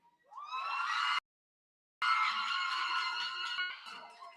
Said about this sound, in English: So I want you to scream.